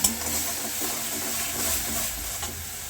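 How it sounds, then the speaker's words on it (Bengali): Cumin and dry chillies frying with salt and turmeric in hot oil, a soft continuous hiss and sizzle with a few faint pops, heard close and without talk. "মশলাটা এবার আমি দিয়ে ভালো করে ভেজে নেব।"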